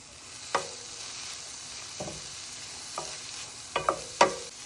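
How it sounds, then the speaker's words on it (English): Long beans with grated coconut being sautéed and stirred in a pan, a soft steady sizzle broken by a few sharp scraping and clinking accents spaced out over several seconds, close and moderately quiet with no talking. "Now I'm going to mix it and saute them for about a minute."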